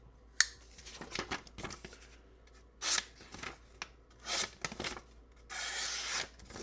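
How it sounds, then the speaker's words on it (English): Knife blade slicing through a small paper Post-it note, a few soft, quick scraping cuts in short bursts, close and quiet, with no talk. "I have a little Post-it note. I could cut a little bit just to show you."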